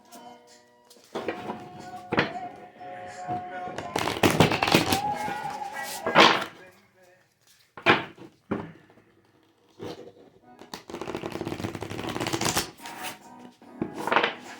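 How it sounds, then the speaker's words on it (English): Repeated bursts of cards being shuffled and riffled, loud and close, with brief pauses between the clattering runs. "That was a good shuffle."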